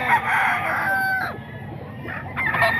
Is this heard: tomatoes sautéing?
no